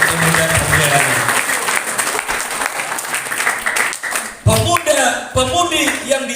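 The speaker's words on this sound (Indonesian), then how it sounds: "Saudara-saudara, tepuk tangan dulu." A school audience at a Ramadan religious lecture applauds steadily for several seconds, clapping dense and close, then breaks off as the speaker's voice returns over the hall.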